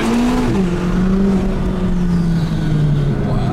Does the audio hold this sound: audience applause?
no